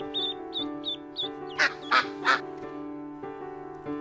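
Three loud mallard duck quacks ring out in quick succession over soft background music, marking a read-along children's book scene of ducks marching down a city street.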